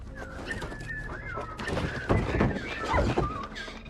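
Birds call in short gliding whistles, mixed with cooing and a few dull thuds close by, sounding like an animated scene.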